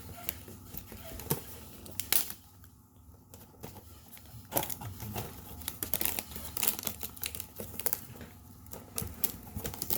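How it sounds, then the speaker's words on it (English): Packing tape being pulled off a roll and pressed onto a package of Pokémon cards, giving repeated short crackling, tearing bursts close up, alone. "Get our tape."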